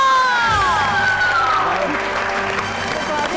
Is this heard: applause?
yes